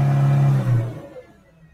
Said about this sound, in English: I give the engine a rev.